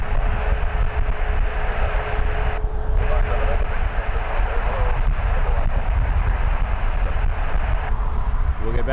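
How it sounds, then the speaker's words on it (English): A jet takes off at Toronto Pearson airport at night, its broad engine roar steady and loud throughout, with faint voices talking in the background. "We got a takeoff coming"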